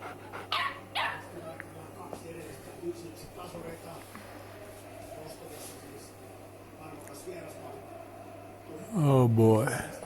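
A dog gives one loud, close, harmonic bark near the end, after fainter yips earlier on. Low background talk and a steady hum run underneath.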